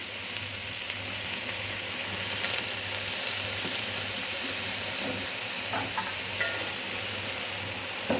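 Red amaranth leaves being stirred and fried with spices in a pan, a continuous quiet sizzle with soft scraping stirs now and then, steady throughout with no voices.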